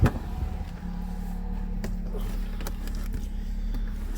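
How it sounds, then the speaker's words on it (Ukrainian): A Nissan Rogue being diagnosed for engine fault codes and a removed temperature sensor idles with a steady low engine drone, close by, with a few light clicks and clatters over the hum. "машина зараз нормально газує"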